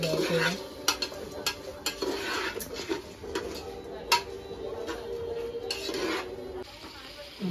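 A spoon stirs chicken biryani masala mix in a pressure cooker, scraping and clinking against the metal in irregular knocks over a soft sizzle, close and moderately loud.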